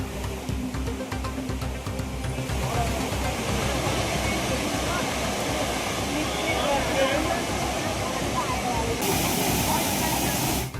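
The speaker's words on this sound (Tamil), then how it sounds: "மக்கள் உற்சாகமாக குற்றாலம் பிரதான அருவி மற்றும் ஐந்தருவியில் குளித்து மகிழ்கிறார்கள்" The Courtallam main waterfall and Five Falls in Tenkasi district pour with a steady, dense roar and hiss of falling water that fills the whole stretch without a break.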